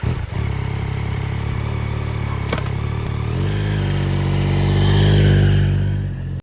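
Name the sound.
motorcycle engine revving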